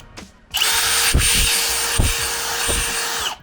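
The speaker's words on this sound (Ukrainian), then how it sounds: "вмикаю шурупокрут" A Milwaukee M18 cordless drill-driver switches on after a brief click and runs at a steady, loud, close whine for about three seconds before cutting off, with no talking.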